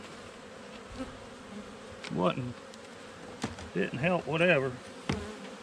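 Honey bees buzz in a steady low hum while a beehive is opened for inspection, and someone speaks briefly and quietly over the insect drone.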